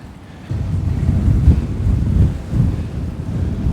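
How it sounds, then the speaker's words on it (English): Strong wind buffets the microphone in steady low roaring gusts near a park by Newark waterways, with a water-like rush underneath and gusts swelling after the first half second; no talking. "this wind is crazy"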